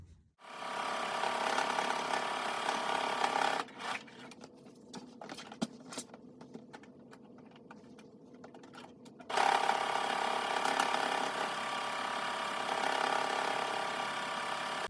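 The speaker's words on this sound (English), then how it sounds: "Sewing my handles on both long edges" A sewing machine stitches tote bag handles along both long edges: a steady close motor whir runs, breaks off into a stretch of ticking and clicking, then resumes its even hum for the rest, with no talking.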